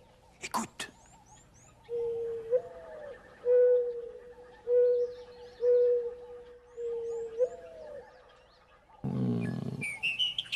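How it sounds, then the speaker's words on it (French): A mourning dove coos softly, a slow mournful call repeated about five times, with a brief scratchy noise at the start and bird chirps at the end. "C'est la tourterelle triste."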